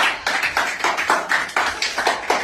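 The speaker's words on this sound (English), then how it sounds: "Clap for yourself." A group of people clap in a quick, even rhythm of about ten sharp claps close by, with no talk.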